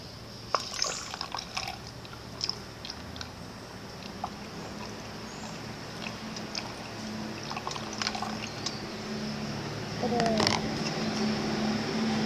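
Water trickling and splashing as a toy baby bottle for a doll is filled, with irregular drips and small pours, a steadier gurgling stream toward the end, and faint background sounds.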